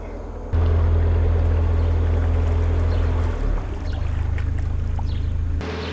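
A low, steady narrowboat engine rumble starts abruptly, shifts briefly midway with water churning as the boat reverses on a canal, then continues before cutting off near the end.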